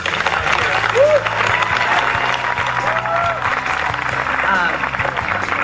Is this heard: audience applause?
yes